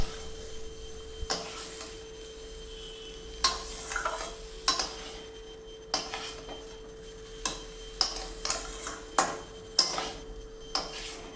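A spoon scrapes and knocks as vegetables are stirred through spice masala for Bengali shukto, in repeated separate strokes over a faint steady hum.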